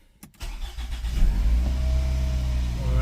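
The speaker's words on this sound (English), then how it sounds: "Alright, so the vehicle starts up." A 2007 Toyota RAV4 with stalling, rough running and multiple circuit faults cranks briefly, then catches and starts, settling into a steady running engine hum.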